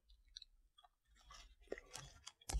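Someone chews a golden maple hemp CBD caramel up close, with quiet soft sticky mouth sounds and small smacks that grow busier toward the end, no talking.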